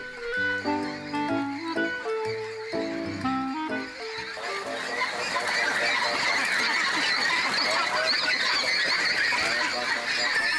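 A crowd of ducks quacks inside a duck farm house holding thousands of birds, preceded by a man's tuneful, melodic vocalising; the quacking grows into a dense, loud, continuous chorus.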